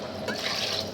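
Water poured into a pot of thick dal, a steady splashing, trickling pour heard up close for about a second with no voices.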